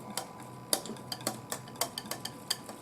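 A whisk beats homemade whipped cream in a bowl, giving quick rhythmic metallic clicks and taps against the side, fairly faint and close, with no talking.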